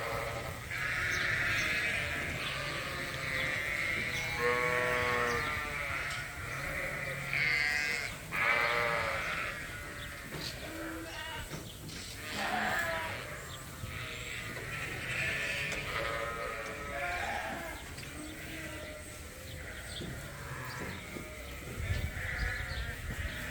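Suffolk and Dorset lambs bleat repeatedly in a dry barn while eating soft second-cut grass and alfalfa hay, several overlapping calls close by over steady rustling and chewing.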